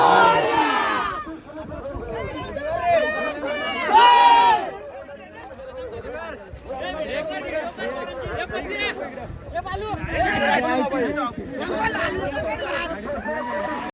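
A large crowd roars and shouts in celebration at a village bullock cart race ground, loud overlapping cheers and whoops from many voices close by, swelling in waves throughout.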